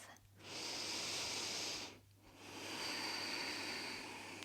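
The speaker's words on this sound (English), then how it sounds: "Take a round of breath." Two long, slow breaths during a beginner yoga practice, each a soft airy hiss drawn in and let out with a short pause between, close and unhurried, no talking.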